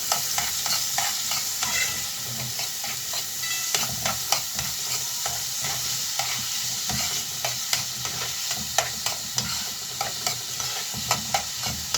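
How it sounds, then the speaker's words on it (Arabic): Chopped onion stirred and frying in a pan at home, a steady sizzling hiss with repeated scraping and clinking strokes of the spoon against the pan, close and alone. "انا اقلب فيها لحد ما تدبل بس شويه"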